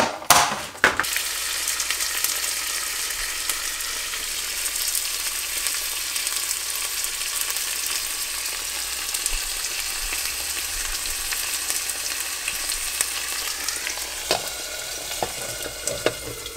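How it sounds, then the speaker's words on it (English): Egg and chicken fry together in a pan with a loud, steady sizzle that runs throughout, punctuated by a few scraping stirs near the start and end. "then I will go into frying up my egg with"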